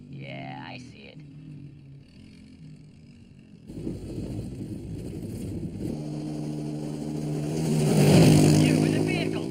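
In an animated sci-fi scene, a vehicle's motor rumbles in from a distance, swelling louder as it draws nearer amid swirling effects and a shouted voice.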